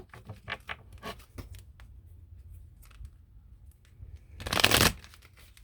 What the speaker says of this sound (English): let's pull some Lovers Oracle cards